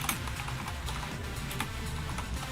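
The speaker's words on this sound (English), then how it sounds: "I'm just typing to chat to tell them what's going on." Soft, fast clicking of typing on a computer keyboard, an irregular patter of keystrokes heard faintly beneath a low background hum.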